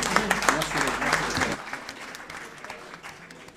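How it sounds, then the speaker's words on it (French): Conference hall audience applauding, a dense patter of many hands that starts under a speaking voice, then carries on alone and thins to a lighter, scattered clapping. "Beaucoup plus d'applaudissements, mesdames, messieurs, s'il vous plaît."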